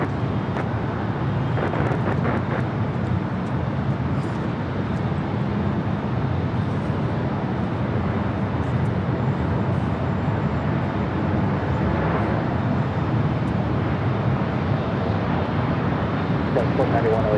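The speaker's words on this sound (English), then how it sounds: "Southwest 611 coming in from Austin on MAX 8." A Southwest Airlines Boeing 737 MAX 8 lands at LAX with a continuous broad engine roar. Wind rumble and crowd ambience sit underneath, and faint talk can be heard.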